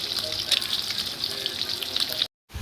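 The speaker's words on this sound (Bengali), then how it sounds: "প্রথমে আমি ডিমগুলো ভেজে নিচ্ছি" Eggs frying in a pan give a steady, dense sizzle with a bright crackling hiss, continuous and close, ending in a short silence near the end.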